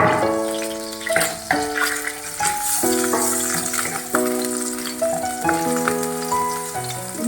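Chopped garlic fries in a pan, giving a steady close-up sizzle and crackle with occasional stirring clatter.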